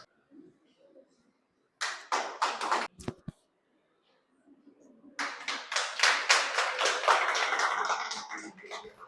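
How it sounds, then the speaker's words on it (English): A school cooking competition audience gives a round of applause for the winner, a short burst of close clapping followed by a longer, louder swell of many hands that fades out, with talk heard in the gaps. "A big round of applause for the winner"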